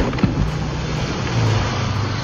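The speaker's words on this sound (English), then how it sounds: "When you decide to show off your powerful SUV" A powerful SUV engine revs in a steady, loud low drone, close by and with no voices.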